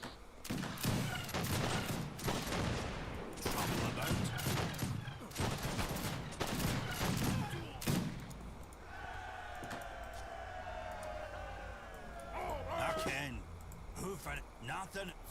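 Repeated musket volleys crackle through a battle in Age of Empires 3, dense bursts of gunfire in the first half giving way to a quieter stretch, with game voices shouting commands over the shooting.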